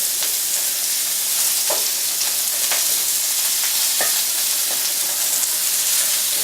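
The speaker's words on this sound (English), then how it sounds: "what I'm doing is just separating the layers of onions" Sliced onions sizzle loudly in a hot pan with a steady frying hiss, while a utensil scrapes and pushes them apart in repeated short strokes.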